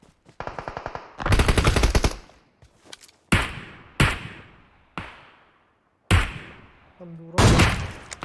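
Gunfire in a shooter video game: a rapid automatic burst opens, then a longer loud volley and several single sharp shots with echoing tails, separated by short gaps.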